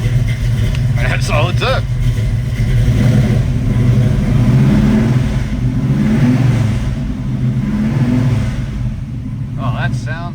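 A 1970 Chevrolet Camaro Z/28 with a manual clutch starts from cold and settles into a loud, lumpy V8 rumble with repeated blips of the throttle. Someone speaks briefly over the engine near the start and again near the end.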